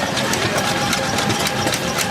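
An antique 1914 stationary engine with heavy cast iron flywheels runs steadily nearby, a continuous mechanical chugging with a faint regular pulse throughout, and no talk over it.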